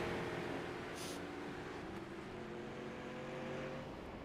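Tube-frame Twister race cars run down a long straightaway on a racetrack, their engines a steady, somewhat distant droning whine that holds throughout with a brief higher burst near the start.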